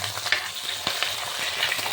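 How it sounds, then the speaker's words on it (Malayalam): Chopped green chilies sauté in hot oil in a clay pot for a gooseberry pickle, giving a steady, close sizzling hiss broken by light scraping stirs. "ഈ പച്ചമുളക് കൂടി നമുക്ക് അരിയിട്ട് കൊടുത്ത് നന്നായി വഴക്കിയെടുക്കാം"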